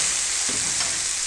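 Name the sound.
frying tomatoes and green chillies with onions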